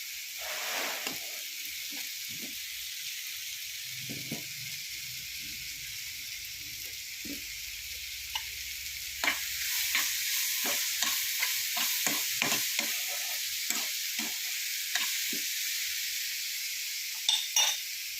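Apple and sugar sauté in a pan for apple payasam, with repeated scraping and stirring strokes over a soft hiss that grows a little louder midway.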